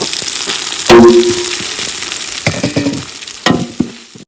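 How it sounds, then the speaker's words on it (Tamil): Mint and coriander fry in a masala for mushroom biryani, with a bright sizzle under intermittent stirring clatters and a few sharp spoon knocks against the pot. "புதினா, கொத்தமல்லி இப்போயே ஃப்ரை பண்ணிடுங்க"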